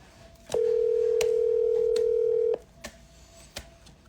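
A call-in line opens with a steady dial tone of about two seconds, loud and alone, followed by short faint dialing clicks and beeps.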